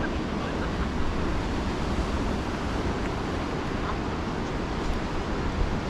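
Ocean surf on a chilly evening seaside, a continuous low roar of waves mixed with wind buffeting the microphone, steady and fairly loud with no voices.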